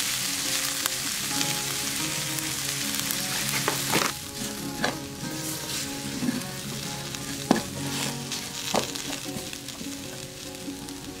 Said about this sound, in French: une fois que les oignons sont bien grillés, comme ceci